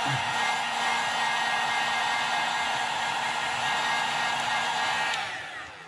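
A heat gun blows steadily and loudly to heat-set black paint on a crankbait lure. The whooshing roar is continuous and close, with no talk, and tapers slightly at the very end.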